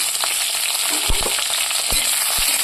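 Kohlrabi, radish and potatoes fry in a pan with a loud, steady sizzle, broken by a few soft knocks and stirring sounds.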